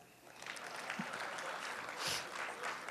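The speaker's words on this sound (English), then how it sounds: "Are you supposed to clap?" Scattered clapping from a small audience at an art wall unveiling at a switching station, fairly soft and uneven, with a few louder bursts rising and fading over the moment.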